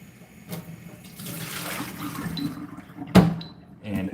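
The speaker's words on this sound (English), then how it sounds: "So now I'm just washing my cylinder bong" Running tap water splashes while a glass cylinder bong is washed, a soft irregular rinse with a sharper clunk of glass near the end and a voice talking over it.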